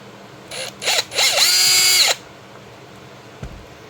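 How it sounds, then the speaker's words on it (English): Power drill unscrewing the back plate of an inflatable blower, two brief trigger bursts followed by a longer whirring run with a rising-then-settling motor whine, close and loud, then a quiet pause and a faint click. "we're going to unscrew the back plate"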